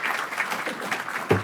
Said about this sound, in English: Y'all could clap now.